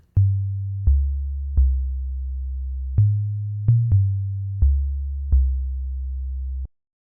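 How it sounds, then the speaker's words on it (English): An 808 bass in Ableton sounds a pure, clean sub-bass fundamental with no added harmonics, eight or so boomy notes in a syncopated pattern, each with a sharp attack and slow decay, a couple of notes pitched slightly higher. "you can see that it's only playing the fundamental or the note pitch of the 808."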